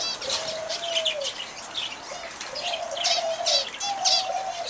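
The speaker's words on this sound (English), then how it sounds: "some cockatiels, and there's some, I don't know if you can see very well, but there's some doves back there" Cockatiels and doves in an aviary chirp and coo: soft repeated dove coos with bright chirps scattered over them, fairly close and continuing throughout.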